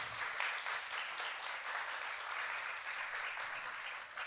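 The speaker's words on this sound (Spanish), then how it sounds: "Un aplauso para" An audience at a talk in a hall applauds the director, a sustained, even wash of clapping heard from a distance at low volume.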